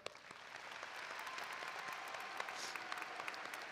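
A graduation crowd at Cascade High School claps steadily in a broad, even wash of applause, no voices standing out.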